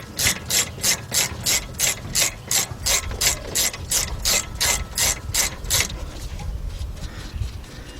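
A hand ratchet loosens 12mm bolts on the rear brake caliper of a 2007 Honda Accord, giving a quick, regular run of about sixteen sharp clicks, close and loud, before fading into quieter shop noise.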